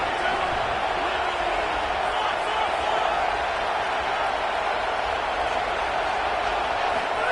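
A packed stadium crowd at a Michigan vs. Indiana college football game roars loudly and continuously, a dense, steady wall of cheering with no breaks.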